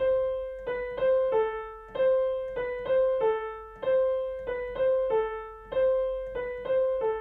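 A simple piano melody of single sustained notes, the opening of Carol of the Bells starting on C, played one after another at a steady, unhurried pace, close and clear with no talking.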